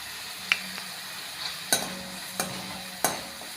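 Onions sautéing with salt in a pan give a low background sizzle, punctuated by four or five sharp clicks of a utensil against the pan, close and distinct.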